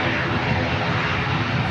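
Air New Zealand flight NZ550 taxis at Christchurch Airport, a dense, steady engine roar heard from a distance, fairly loud and unbroken.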